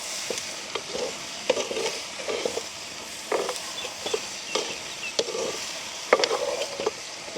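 Brinjal and dried squid fry in a pan in a village kitchen, a soft steady sizzle broken by repeated close scraping stirs of a spoon against the pan, with no talk.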